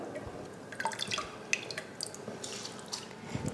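Water trickles and drips into a cooking pot holding rice and salt, soft splashes and small droplet ticks, fairly quiet and close, with no talk.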